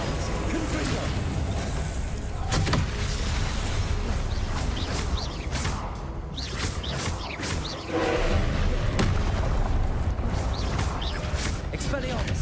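Confringo blasting spells in Hogwarts Legacy set off repeated bursts, pops and crashing booms amid whooshing spell casts, with a voice heard over the loud combat din throughout.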